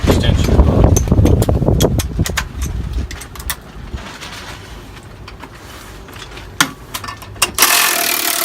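Socket ratchet with a deep-well socket loosening injector bolts on a Volvo D-13 diesel engine: quick clicking bursts and metallic scrapes nearby, fading to quieter rustling and a few sharp knocks.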